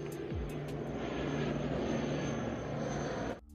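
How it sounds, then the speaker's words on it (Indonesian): A propeller airplane departs in flight in a film scene, its loud, steady engine drone filling the soundtrack before cutting off abruptly near the end. "Setelah perdebatan selesai, pesawat pun akhirnya berangkat."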